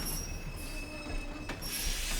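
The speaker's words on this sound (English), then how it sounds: "The train will be arriving shortly." Train pulling into a station in the video game Kingdom Hearts 2, steady metallic wheel squeal with high sustained tones over a rumbling rail noise, fairly close and continuous, no talk.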